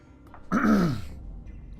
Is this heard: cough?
yes